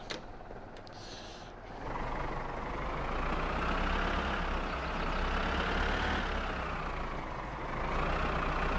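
Truck engine in the video game My Summer Car, a steady low rumble that swells as the throttle is held and the vehicle drives off, loud and continuous with faint high tones above.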